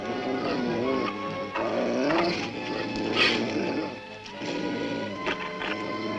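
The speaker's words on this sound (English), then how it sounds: "We'll have to distract those dogs so Harmony and I can get the amulet." Cartoon dogs from an animated Smurfs episode growl and snarl continuously, the guttural sounds rising and falling with a few sharper yips mixed in.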